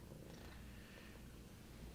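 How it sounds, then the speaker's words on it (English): Two cats purr together nearby, a soft continuous rumbling drone that holds steady throughout without pauses. "they're both purring"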